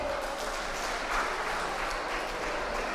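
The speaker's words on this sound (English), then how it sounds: "Please clap for Aisha Singate once again." A children's public speaking contest audience in Gambia claps steadily for a contestant, heard as moderate, even applause from a room that continues throughout.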